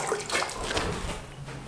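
Water splashing and trickling as a rag is wetted in a container for wiping excess wallpaper glue indoors, a brief close wet swish with no talk.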